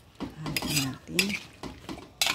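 A utensil stirs and scrapes food around a metal pot, with repeated clanks and scrapes in an uneven rhythm close by and a light sizzle underneath.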